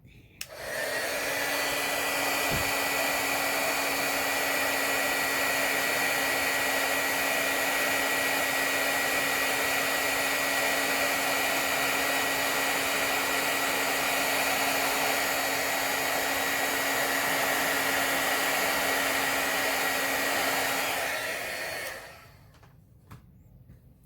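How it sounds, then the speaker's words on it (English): Heat gun running for embossing: a loud, steady blowing whir with a constant hum starts abruptly, holds unchanged for about twenty seconds close by, then shuts off into quiet room noise. "Now, I have to run this heat gun."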